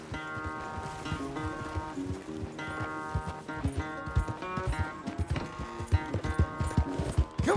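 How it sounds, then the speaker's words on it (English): Horse hooves clip-clopping in a corral in the video game Red Dead Redemption 2, a fairly quiet, uneven run of hoofbeats with a horse's neigh mixed into the soundtrack. "Where's that big mean horse?"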